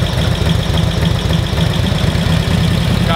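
Harley-Davidson WLA motorcycle engine running loud and close with a steady, pulsing low rumble that rises slightly as it is revved, with no talk.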